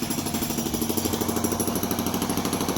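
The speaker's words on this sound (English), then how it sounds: "see what kind of progress he's making with the jackhammer work here today" A jackhammer breaking concrete during a renovation pounds in a rapid, steady rhythm, loud and close, its hammering blows merging into a continuous rattling chatter.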